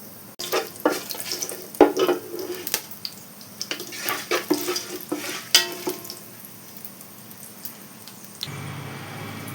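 Whole cloves, cinnamon, cardamom, fennel and about ten peppercorns frying in oil for ghee rice, with close sizzling crackles and repeated scraping stirs and pan knocks, easing off near the end.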